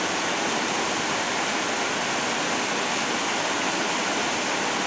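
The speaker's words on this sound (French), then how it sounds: "J'espère qu'on n'entendra pas trop non plus le bruit de la cascade dans la vidéo" Steady full roar of a waterfall on the Aude river at Carcassonne, a dense constant rush of water with no breaks or voices.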